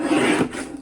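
A paper trimmer's blade slices through a neatly stacked pile of card paper, a short, close rasping scrape lasting under a second with no talking.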